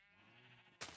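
Sheep in the Minecraft video game bleating once, a clear wavering game bleat, followed by a sudden burst of brighter noise at the end.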